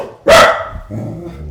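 A dog gives a single loud, close bark while out walking with a man, followed by a softer low rumble.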